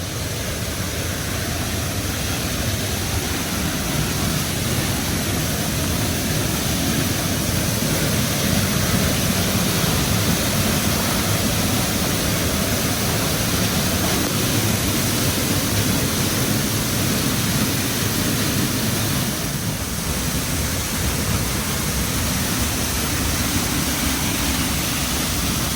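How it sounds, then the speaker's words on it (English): A secondary waterfall in Arkansas during flood conditions roars as a dense, continuous broadband rush of water, steady and fairly loud throughout, with no voices. "Looks like there's a secondary waterfall."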